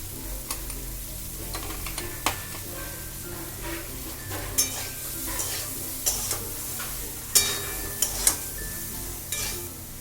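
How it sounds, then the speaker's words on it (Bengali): Potatoes frying and being stirred in a pan over a high flame, with a steady low sizzle and scattered scraping clinks of a spatula against the pan, close and moderately loud with no talking. "আলুগুলো দিয়ে এবার এটাকে আমি হাই ফ্লেমে দিয়ে এটাকে ভাজবো"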